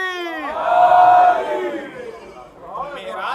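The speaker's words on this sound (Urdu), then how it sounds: "نعرے حیدری." A large crowd at a religious gathering roars the chanted slogan "Naara-e-Haidari" in unison, a sustained collective shout rising and then fading into crowd noise.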